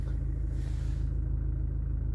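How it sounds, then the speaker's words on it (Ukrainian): An Audi, Ford, VW or Jaguar car engine starts and runs with a steady low rumble and a faint rising rev, close and continuous, with no voices. "Автомобіль запустився, каншина працює."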